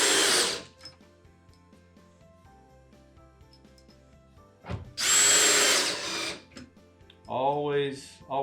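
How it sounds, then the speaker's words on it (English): Power drill driving a screw through a table cleat into a wooden mid-century modern tabletop, heard as two close, loud whirring bursts of about a second each, followed by a short ratcheting buzz, with quiet room sound between. "as I get that screw tightened down"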